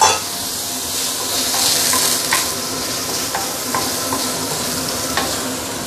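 Iberico boneless pork ribs sizzle and fry in a claypot over moderate heat while being stirred, giving a close, steady crackling hiss with occasional scraping clicks throughout.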